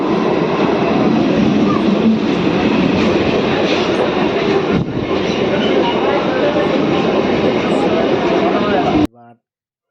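A train rumbles loudly through Jadavpur railway station in Kolkata, a steady close roar that cuts off abruptly near the end.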